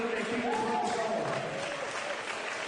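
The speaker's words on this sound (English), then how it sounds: "Folks, keep the applause going." Audience applause and crowd noise filling an MMA fight venue, a steady dense wash of clapping with voices mixed in, continuous throughout.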